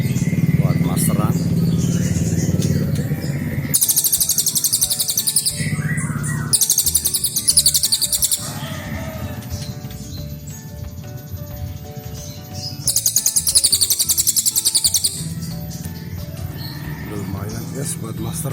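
A small caged songbird chirps as a song tutor for magpie robins, bursts of quick, bright trills that start and stop in long stretches, loud and close over a steady background din.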